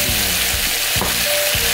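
Pork ribs and onion fry in a kazan with a dense, loud, continuous sizzle, plus a few dull knocks of a utensil against the pot, close up and without voices.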